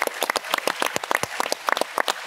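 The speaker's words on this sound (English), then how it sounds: "Perhaps we can give them a round of applause." Audience clapping at a tech conference session, a short burst of scattered, sparse claps from a smallish crowd, fairly close and without voices.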